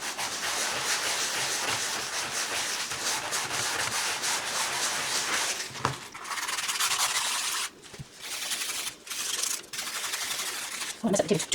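A small 120/180 grit sanding block rubbed across a wooden table in continuous, even rasping strokes, close and steady, with a few short pauses near the end.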